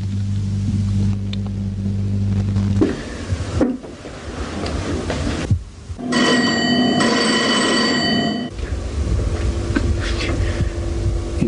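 A telephone rings in a drama scene, a bright repeating electronic ring rising clearly for a couple of seconds after a stretch of other noise and rumbling, with no voices.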